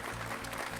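Brief burst of audience applause at a public speech about farming and the next generation, a dense steady clatter of clapping lasting under a second.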